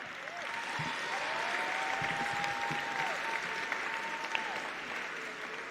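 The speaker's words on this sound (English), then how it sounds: "So another massive round of applause for every one of them." Sustained loud applause from a large audience at a closing ceremony, dense clapping throughout with a faint tone running underneath.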